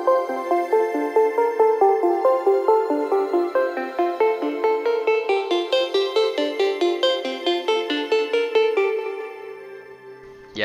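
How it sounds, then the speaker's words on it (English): Synth plugin patch with a filter envelope shaping each note, for a cloud rap track: rhythmic repeated plucky chords whose brightness opens up mid-phrase, steady pulse, clear and alone, fading at the end. "Yeah, this is a filter envelope."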